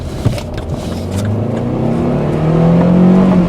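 An Opel car engine revving up close and loud, its pitch climbing steadily from a low idle rumble into a rising drone over a few seconds, with no talking.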